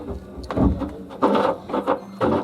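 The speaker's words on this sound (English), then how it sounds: "we'll get it started with the ratchet" Ratchet and socket loosening an electric water heater element, several close bursts of grinding, clicking strokes with short pauses between them.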